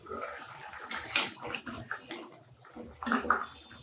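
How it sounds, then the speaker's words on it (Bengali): Bengali katla fish curry gravy boiling in a pan, giving a soft, continuous bubbling and gurgling with irregular small pops, fairly quiet and close, with no talking. "ঝোলটা ফুটে উঠেছে"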